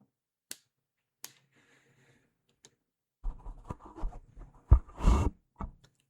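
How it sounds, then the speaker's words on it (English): Finger snaps near a budget microphone during a sound test: two crisp, isolated snaps, then a fainter third, followed by louder rustling and handling noise. "Let me snap my fingers."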